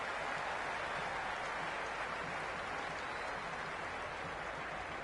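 A crowd at a cricket ground in a PS5 cricket game, a Big Bash League match between Sydney Sixers and Melbourne Stars, gives a steady, dense roar of noise with no breaks.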